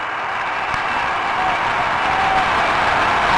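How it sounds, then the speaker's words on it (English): A dense stadium crowd roars and applauds steadily at a college football game, with the Ohio State band among those cheering the Wisconsin band; the wash of noise is continuous and fairly loud, with no distinct voices. "The Ohio State band is up and cheering the Wisconsin band in this performance as the sportsmanship continues."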